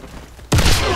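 A single gunshot in the video game Warface cracks out suddenly after a quiet moment, loud and close, its rumbling tail lingering briefly afterward.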